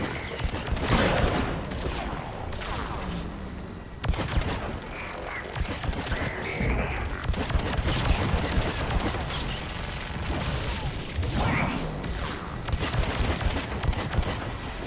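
Sustained gunfire in the video game Mass Effect 3, with dense bursts of rapid shots and blasts running continuously for about fifteen seconds, loud and close, with brief lulls between volleys and no talking.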